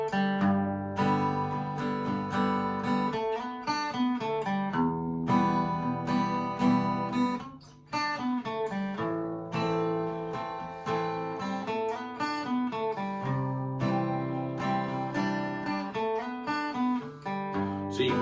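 Guitar lick for a mid-tempo country song, played alone as a steady run of clear, melodic picked notes with short pauses between phrases, close and even in level.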